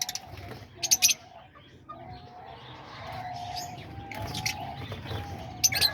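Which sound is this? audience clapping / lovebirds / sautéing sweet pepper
lovebirds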